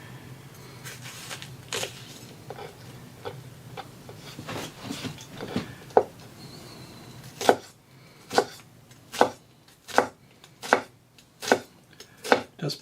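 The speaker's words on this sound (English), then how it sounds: "Looking for a nice minced shallot. So there is a little resistance pulling through here." An Imarku hammered-edge 8-inch chef knife mincing a shallot on a cutting board, with quieter uneven slicing at first, then a run of sharp, evenly spaced chopping knocks close by.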